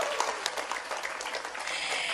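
Audience clapping breaks out during an Islamic religious lecture, a dense steady patter of many hands filling the room at moderate volume for a couple of seconds.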